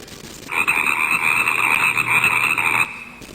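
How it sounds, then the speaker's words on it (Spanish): A frog croaks in one sustained, steady, rasping call of about two seconds, loud and close, standing alone against a quiet background. "Rana."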